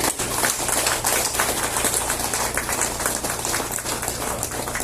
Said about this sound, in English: Give a big hand of applause Bah Shangpliang NP.